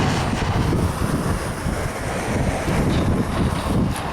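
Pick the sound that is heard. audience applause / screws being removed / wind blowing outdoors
wind blowing outdoors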